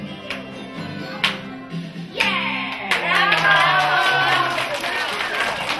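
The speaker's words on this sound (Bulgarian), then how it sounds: "аплодисменти за Белица!" Applause for a child performer at a kindergarten, a few sharp claps at first that grow into steady group clapping, with children's voices and an adult talking.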